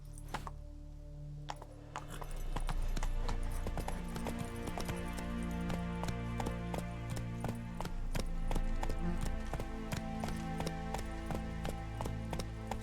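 Horse hooves from Roach, the mount in The Witcher 3, clip-clopping in a steady rhythmic gait, close and loud, with music-like tones behind and no voices.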